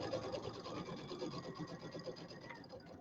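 A sewing machine stitching along the edge of a settee pillow, a quiet, steady rapid mechanical chatter running continuously and close up, with no talking.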